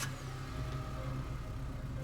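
Steady engine hum of a police squad car in the video game Scarlet Hollow, a low continuous idle-like drone holding even throughout with no talk over it.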